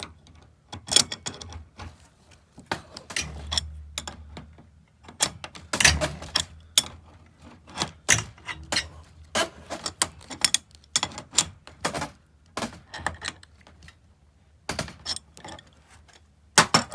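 Wrenches tightening the flare fittings on a MrCool 12k mini split heat pump line set in an RV, a run of sharp metallic clicks and clanks in irregular bursts, close and fairly loud with quiet gaps between.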